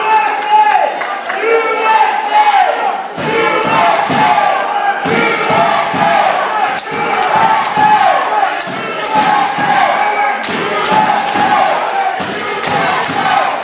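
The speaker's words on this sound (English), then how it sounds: "the patriarch of UWC has got this crowd firmly behind him, chanting USA" A wrestling crowd at a UWC show chants USA in loud, rhythmic bursts that repeat again and again, with thumps and scattered cheers mixed into the din.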